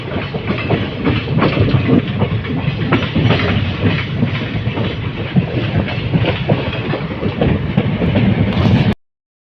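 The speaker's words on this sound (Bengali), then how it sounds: "আইসিএফ কোচের এই জার্নিটা, মানে এই ঝাঁকুনিটা আর আওয়াজটা সেই লাগে।" An Indian Railways ICF coach rattles and jolts along the track near Cooch Behar, a loud, continuous clatter of wheels and rumbling carriage with rhythmic clicks, heard from inside the moving train until it cuts off abruptly.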